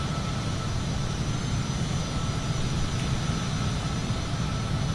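A fixed-wing airplane climbing out after takeoff from the runway at Banda Aceh, Indonesia, with flaps up and autopilot engaged: a steady, loud engine drone with broad cabin roar, continuous throughout with no talking.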